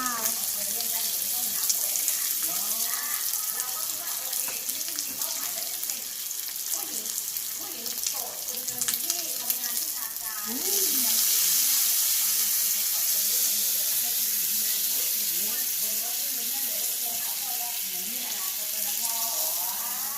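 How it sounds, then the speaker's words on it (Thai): A pot of mala hotpot broth boils at home, giving a steady bubbling and hissing simmer that fills the background, with faint voices at times. "หมาล่าของเราก็เดือดแล้วว้า"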